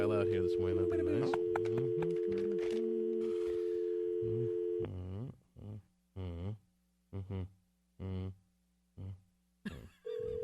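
Telephone line on a morning call-out: a steady dial tone hums for several seconds, then gives way to a repeating busy signal, six short evenly spaced beeps, with a faint voice murmuring underneath.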